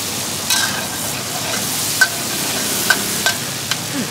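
Minced pork with basil frying in a hot wok at a Thai street food stall, a steady loud sizzle with sharp metallic clinks and scrapes of the spatula stirring every second or so.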